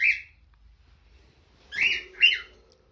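Pet lovebirds, English type, give three sharp squawking chirps: one at the start, then two close together after a pause. They are loud and near with no talking, over faint background hum.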